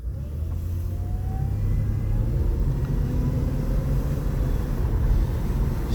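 A Chevy Impala engine with a freshly installed engine and transmission runs with a steady low rumble while the car is driven and shifted through the gears, heard from inside with some wind noise.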